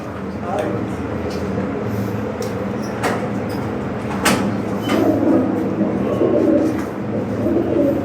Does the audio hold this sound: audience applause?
no